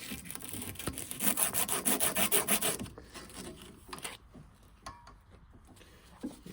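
Copper pipe sanded before soldering, giving a fast rhythmic rasping scrub for about three seconds, close up, then a few faint scrapes and knocks, no voices.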